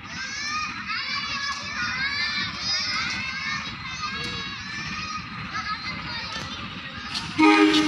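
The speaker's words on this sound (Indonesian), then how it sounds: "kereta api Kutu Jaya Selatan masuk di jalur D Stasiun Tasikmalaya untuk menurunkan dan menaikkan penumpang" Kutu Jaya Selatan passenger train pulling into track D at Tasikmalaya station, a steady loud rumble with crowd chatter and voices throughout, ending in a sudden louder burst near the close.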